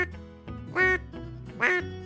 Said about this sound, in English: That is one pitiful duck call.